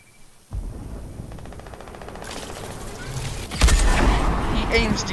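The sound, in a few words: gunfire in a battle royale video game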